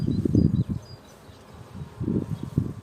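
Honeybees buzzing close beside a beehive during syrup feeding, a low droning hum that swells in two clusters with a dip between, no talk over it.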